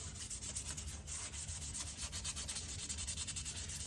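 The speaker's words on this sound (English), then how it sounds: "I can go lightly sand over it like that." Steady, rhythmic light rubbing strokes of sandpaper on an oiled metal knife blade, close and continuous, with no voices.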